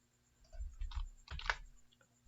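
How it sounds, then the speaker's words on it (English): Two or three quick, soft mouse clicks while applying settings on a computer, close and faint against a quiet room; no talking. "So we click apply and we'll click OK."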